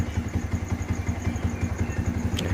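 Fuel-injected motorcycle engine with automatic idle speed control idling around 1400–1500 rpm, a close, steady pulsing putter with a light mechanical clatter, alone without voices.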